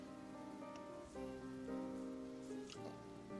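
Rain in the video game Ender Lilies, a faint steady patter under sustained, layered tonal music, quiet and continuous with no voices.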